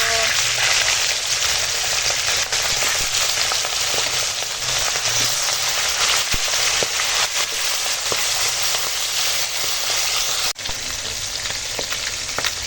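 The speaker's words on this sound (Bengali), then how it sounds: "তেল গরম হয়ে গেছে এবার চলো মুড়ো ভেজে নেবো" A rohu fish head fries in hot oil, giving a loud, dense, unbroken sizzle with constant crackling and spitting close by.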